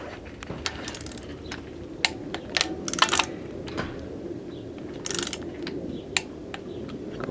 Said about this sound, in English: Set the torque wrench to 11 foot-pounds.